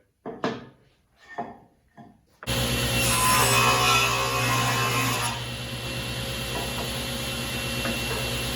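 A few scraping strokes on wood, then a loud, steady power saw whine takes over and keeps running close by while notches are cut in a workbench rail.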